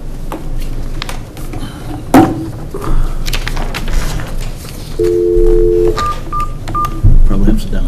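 Touch-tone dialing beeps from a hotline phone in a meeting room, a short run of paired tones near the middle followed by a few quicker single beeps, sounding under ongoing room chatter and voices.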